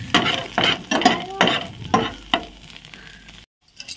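Potatoes fry in a pan with crackling sizzle bursts that rise and fall in rhythmic pulses, as if being stirred, ending in a sudden brief silence and a few faint crackles.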